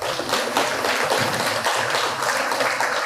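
A crowd of Sai Baba devotees at the Chintapally temple claps loudly and steadily, a thick, continuous wash of applause with no talk over it.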